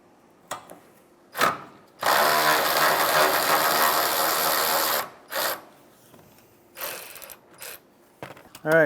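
Ratchet wrench removing 12mm bolts during radiator replacement on a 2011-2016 Hyundai Elantra: short clicking bursts, then one sustained run of rapid ratcheting clicks for about three seconds, followed by several more brief bursts.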